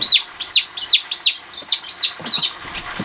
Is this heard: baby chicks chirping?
yes